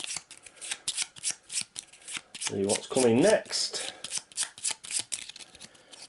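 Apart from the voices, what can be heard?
shuffling and cutting a deck of game cards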